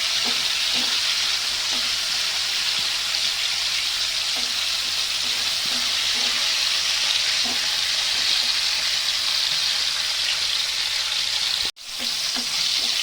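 Steady, dense sizzling of pointed gourd frying in hot oil, continuous and close, with a few soft stirring scrapes and a brief cut near the end.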